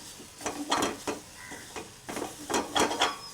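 Grated coconut is mixed into cooked rice with a spoon in a pot, giving a few short bursts of scraping and clinking, close and moderately loud, with brief pauses between strokes.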